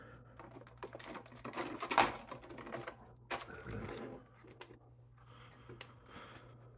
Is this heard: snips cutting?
yes